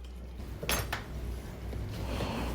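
A metal whisk scrapes and clinks against a pan while stirring seafood gravy, a couple of sharp taps followed by softer continuous swishing, fairly quiet and close.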